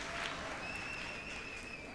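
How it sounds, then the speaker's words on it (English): An esports arena crowd at a League of Legends match in Europe gives dense, continuous applause and cheering that fills the space, with a faint high whistling tone running through it. "But the crowd is amped up."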